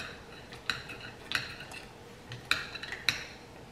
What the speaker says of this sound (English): Move that garlic around some.